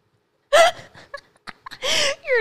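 A woman's hiccups during a podcast recording, sharp sudden vocal catches spaced across a couple of seconds, close to the microphone, mixed with breathy laughing sounds.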